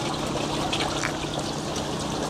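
Water churning and splashing continuously as crowded fish rush the surface to feed, a busy liquid wash at moderate distance with no talk.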